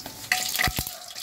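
Oil heating in a pan before bhetki fish goes in, a soft steady sizzle with faint crackles and a couple of small pops, close and alone.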